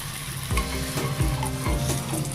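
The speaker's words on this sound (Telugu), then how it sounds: "నూనె కాలింది కదా అండి, ఇప్పుడు మనం చేసుకున్న పరోటాని దీంట్లో వేస్తున్నాను." Paratha laid into hot oil in a pan, sizzling loudly and steadily up close with repeated thumps and scraping from stirring or pressing, no talk.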